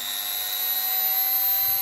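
A Mac Allister MSRT130 rotary multitool runs on speed 1 with a faint, steady high-pitched whine and electric hum, unbroken and alone for under two seconds.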